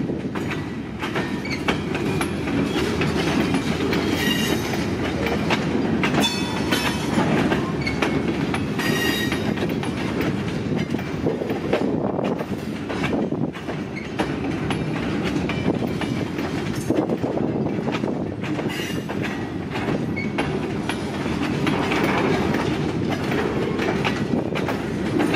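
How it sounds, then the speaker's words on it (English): A long train rumbles steadily past, wheels clattering rhythmically on the rails with occasional metallic squeals, loud and continuous throughout. "Holy mackerel, what a long train this is."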